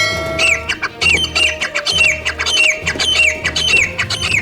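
Caged birds in Karachi, about to be released, squawk and chirp loudly and close, with rapid repeated harsh calls that overlap in a busy, continuous chorus over a low steady background.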